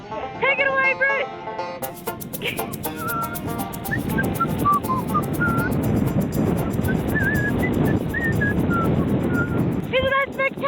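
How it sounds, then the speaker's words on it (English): A man whistles a wandering tune into a headwind while bicycling along Route 66, thin melodic notes over steady roaring wind buffeting the microphone. "He can whistle in a headwind."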